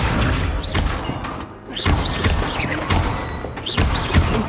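Accio summoning spell cast in Hogwarts Legacy, a magical whoosh with dull thuds and clattering impacts repeating roughly every second or so against a busy game soundscape.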